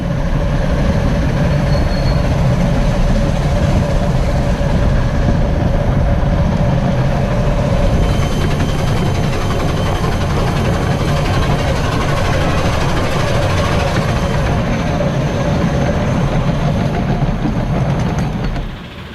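A 2-8-2 live-steam locomotive running on 7 1/4 inch gauge track at a convention, giving a loud, steady rumble with continuous rail and wheel noise close by that fades slightly at the very end.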